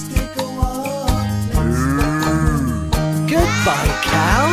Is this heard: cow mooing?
yes